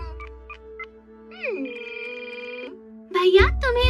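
In the Doraemon cartoon, a telephone call is placed: a few dialing beeps are followed by a long, steady electronic ring tone, and then a voice speaks over a burst of music at the end.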